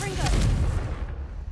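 A Confringo blast spell from Hogwarts Legacy goes off loud and close, a booming explosive burst with a crackling tail that quickly rumbles away, with a voice mixed in.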